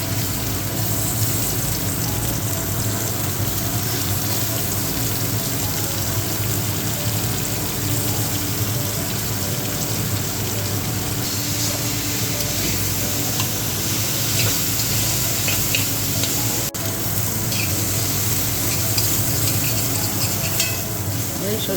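Onion frying in oil for a Bengali banana bugli dish, a steady loud sizzle with stirring scrapes running throughout, close up and continuous.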